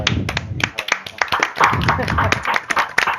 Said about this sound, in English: So perhaps we could start with a round of applause for Andrea.